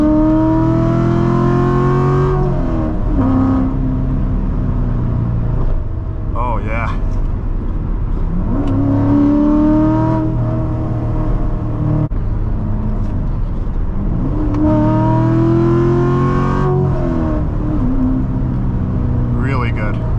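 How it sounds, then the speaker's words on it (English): A 2016 Chevrolet Corvette Stingray with a seven-speed manual revs hard through the gears, engine pitch climbing repeatedly to high rpm before dropping at each shift, loud and close from inside the cabin. "It really starts to sing up in the higher revs."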